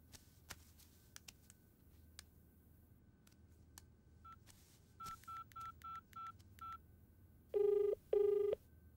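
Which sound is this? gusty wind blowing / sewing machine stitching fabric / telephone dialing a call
telephone dialing a call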